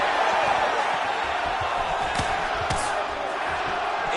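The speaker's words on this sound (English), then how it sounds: "you hear the crowd react every time they come together" Video game crowd in a UFC 5 fight, a continuous arena roar with surges of reaction and a few sharp impact thuds, heard alone.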